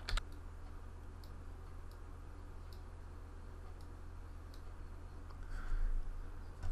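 Text is typed on a computer keyboard into a video editor's title designer. Faint, sparse key clicks tap out at irregular intervals over a quiet background hiss.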